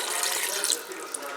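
Water pours steadily into a cooking pot for pork curry, a close, continuous splashing rush that runs the whole short clip without talk.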